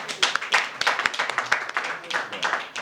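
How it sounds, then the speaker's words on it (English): A short round of applause at a government press briefing on the Faraba Bantang report, a modest group clapping in uneven bursts nearby, sparse enough that individual hand claps stand out. "We can give him a round of applause."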